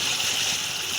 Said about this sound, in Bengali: এবার আমি গ্রেভির জন্য জলটা দিয়ে দিই